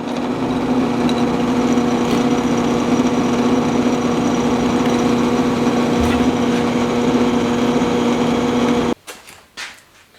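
A steady, loud motor drone from a drill running continuously while boring 3/8-inch holes in steel, then cutting off near the end with a few clatters.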